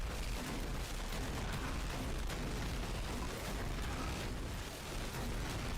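Dense, continuous booming explosions from the Diablo 4 video game during combat, loud and layered over a rumbling, crackling wash with no clear gaps or speech.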